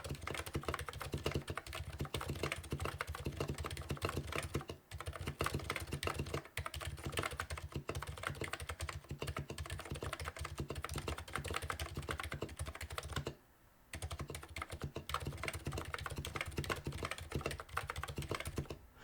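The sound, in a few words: typing on a full-size custom EC keyboard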